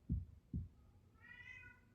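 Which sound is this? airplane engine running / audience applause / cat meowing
cat meowing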